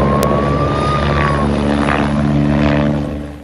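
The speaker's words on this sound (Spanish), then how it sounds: "mientras helicópteros trabajaban para apagar las llamas" Firefighting helicopters work over a wildfire on a hillside in Chiguayante, Chile, giving a loud, close, steady rotor and engine drone with a throbbing hum that fades slightly at the end.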